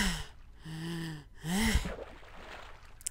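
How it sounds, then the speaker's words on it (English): A video game character takes a desperate gasp of air after surfacing from a swim in Sands of Eternity: two strained breaths, the second sharper and louder, then fading breathy air, with no talk. "You take a desperate gasp of air."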